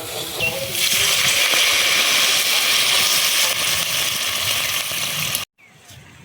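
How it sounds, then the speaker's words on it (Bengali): Water splashing into a pan of frying Bengali curry of katla fish with mankochu (giant taro), a loud steady gushing sizzle for about five seconds that cuts off abruptly, followed by a quieter simmer. "এবার জল দিয়ে দেবো"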